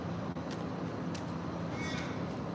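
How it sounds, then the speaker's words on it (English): A crow calling outdoors, several faint caws spaced apart over a steady background hum. "Oh, I hate when I hear the crow."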